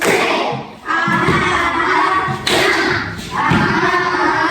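Children in a classroom perform a rhythmic clapping chant, loud and close, with hand claps and thumps driving a steady beat under their chanting voices.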